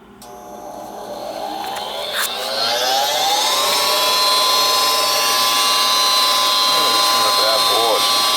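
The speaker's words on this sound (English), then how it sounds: "Exhaust fan motor's running." A Goodman gas furnace exhaust fan motor spins up from start, its whine rising in pitch over several seconds and then holding a loud steady tone, with a faint voice briefly audible near the end.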